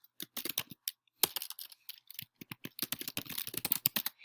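Close computer keyboard typing, quick irregular bursts of key clicks with a brief pause near the one-second mark, then faster runs of keystrokes as text is deleted; no talking.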